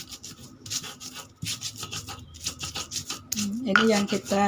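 Turmeric being ground by hand into a fine paste, a steady rhythmic rubbing and scraping that runs throughout, close and moderately loud, with someone speaking over it now and then.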